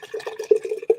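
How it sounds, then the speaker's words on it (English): Berry sour beer pours quickly into a mason jar, a short burst of gurgling, glugging liquid with uneven surges, close and fairly loud. "Pour it quick."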